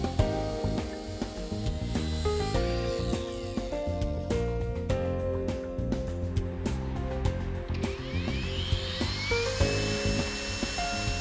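A Raider RDP SBAG20 cordless brushless angle grinder spins its disc at speed, giving a loud, continuous high whine that rises and shifts in pitch throughout.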